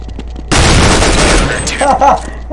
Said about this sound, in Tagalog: Machine gun pala yung isa.